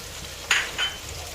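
Spring onions, green and red capsicum, cumin, fennel and pepper powder sautéing in a pan for a chicken mushroom roast, a soft steady sizzle with two brief louder hissing bursts as the mix is stirred, close and without talk.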